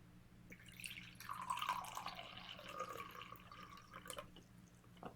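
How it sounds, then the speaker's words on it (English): Vinegar being poured into a measuring cup, a soft, close trickle of liquid that swells and then tapers off over a few seconds, with no talking. "pour 1/2 cup of vinegar"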